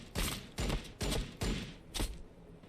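Five loud bursts of gunfire ring out in the Warhammer 40000 Battlesector video game, coming in an evenly spaced rhythm about half a second apart, each one a sharp blast with a short decaying tail.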